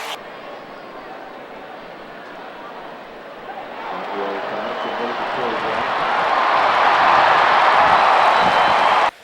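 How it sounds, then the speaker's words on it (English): A college football stadium crowd roaring in response to a screen pass, a broad wash of cheering that swells louder toward the end, heard distantly under a play-by-play announcer's talk. "You heard the crowd reacting to a nice screen pass"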